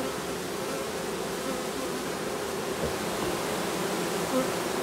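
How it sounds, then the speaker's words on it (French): Italian honeybees in a packed hive give a loud, dense, unbroken buzz up close, like a steady drone with no gaps. "c'est parce qu'elle est pleine d'abeilles"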